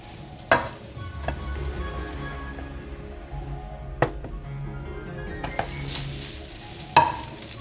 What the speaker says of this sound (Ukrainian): І обсмажуємо ще буквально 3 хвилинки з іншого боку.